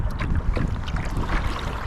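Kayak paddling on Loch Faskally, a slow-flowing loch, with steady close water swishing and rippling under blustery wind noise throughout, no voices.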